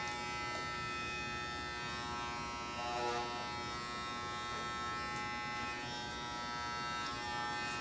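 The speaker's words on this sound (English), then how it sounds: "We're going to work around our ear area in vertical sections and connecting our top with clipper over comb." An electric hair clipper cuts hair over a comb around the ear area in a freehand fade, giving a steady close buzz that runs without pause throughout.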